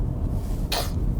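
A woman with allergies coughs once while driving, a single short, sharp burst standing out over the low steady hum of the car interior.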